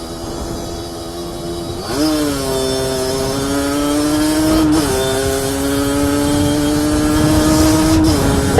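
Motorcycle engine revving hard at full throttle after passing an intersection, a loud continuous rising whine with steady climbing pitch and a brief shift around the two-second and five-second marks, close and without talk.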